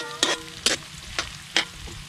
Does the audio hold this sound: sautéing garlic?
yes